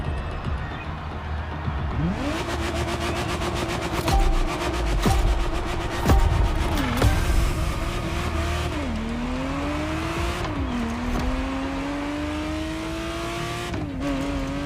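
Ferrari Testarossa in The Crew Motorfest, its engine droning steadily as it accelerates, with audible gear shifts and rising revs against road and tire noise, loud and continuous.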